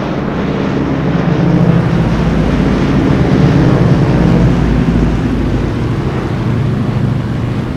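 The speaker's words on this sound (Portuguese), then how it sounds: "Saltando de mais de 1000 aviões C-47, esses homens foram cruciais na retomada da Europa." Twin piston engines of a World War II C-47 transport aircraft drone steadily in flight, a loud, dense, unbroken roar with a rumbling low end that holds constant throughout, with no voices.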